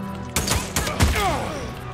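Shotgun blasts ring out during a zombie ambush at a camp in the video game Days Gone, several loud close booms in quick succession over a busy, noisy game mix.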